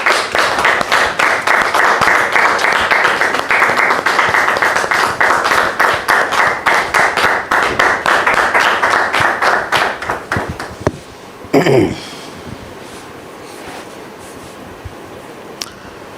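Audience claps in welcome for Mr. Florent on a studio set, dense rhythmic applause for about eleven seconds that thins to scattered claps, then a short voice and quieter room tone.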